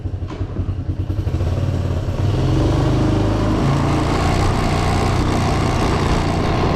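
A Honda Big Red three-wheeler, brought back after years of storage, rumbles loud and close, first in a choppy low putter that quickly steadies into a continuous engine drone while riding.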